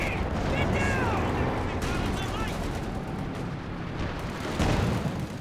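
Anti-tank guns fire in a Company of Heroes 2 battle, several sharp booming shots over a dense, continuous din of gunfire and explosions, with commentary talking over the action.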